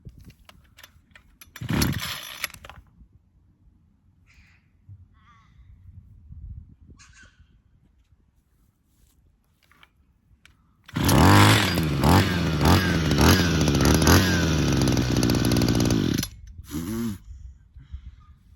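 A small two-stroke hedge trimmer engine with a suspected leaking manifold sputters briefly, then bursts into a loud, rough, revving run for about five seconds before cutting out, with short faint mechanical noises in between.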